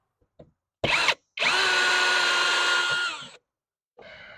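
Close, loud power drill driving hex screws to mount an exterior light plate: two short blips, then a brief whir and a sustained two-second run that winds down, followed by a final short burst.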